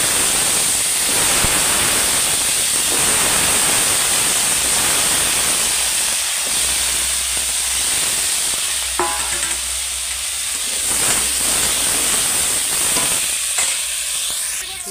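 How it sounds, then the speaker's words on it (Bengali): Potatoes fry in oil in a wok, a loud continuous hissing sizzle close by with occasional stirring knocks and scrapes and no talking. "এবার আমি ওই তেলেতেই আলুগুলো তুলে দেবো।"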